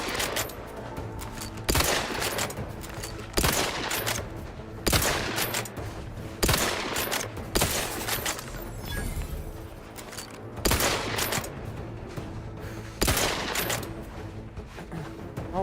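Gunfire in the video game The Outer Worlds 2 comes as repeated loud bursts of shots, roughly every second or two, over a constant dense background of game noise.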